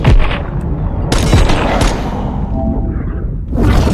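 Video game gunfight: heavy, booming shots and thuds arrive in loud clustered bursts, with sharp cracks near the start and around 1.1 to 1.9 seconds, and a final burst at the end, with no speech.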